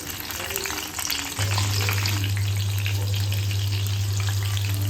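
Green chillies fry in hot oil in a home kitchen where potato vadas are being made, a steady close crackling sizzle joined partway through by a loud constant low hum.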